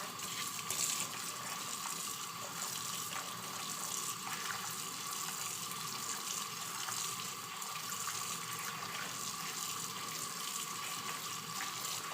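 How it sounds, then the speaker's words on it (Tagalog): Tap water runs steadily into a sink as salted cucumbers are rinsed for kimchi, a constant close splashing rush with no breaks and no voices. "So, para mawala yung alat, so, hugasan natin siya."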